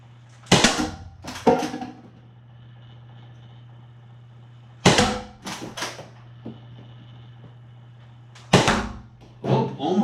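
A Nerf Rival Pathfinder blaster with a K25 spring mod fires Chaos rounds at targets, giving sharp mechanical shots followed by quick clicks and thuds, three separated bursts over a low steady hum.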